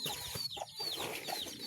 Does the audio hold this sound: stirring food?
no